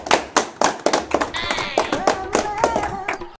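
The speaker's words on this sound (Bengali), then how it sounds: "জোরে হাততালি" A group claps loudly to welcome a new village minister in a staged royal-court skit, sharp rhythmic claps close by with a whistle-like tone weaving through the middle.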